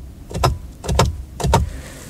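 Three crisp mechanical clicks from the aluminium paddle shifters of a Ford F-150 Raptor with a 3.6L EcoBoost V6, spaced about half a second apart, close up inside the cabin, with no talking.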